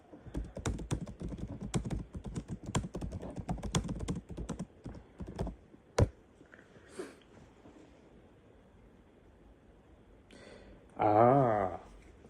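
A question is typed on a computer keyboard in a dense run of close key clicks that ends with a sharp final tap, followed by quieter scattered sounds and a short tonal burst near the end, with no talking.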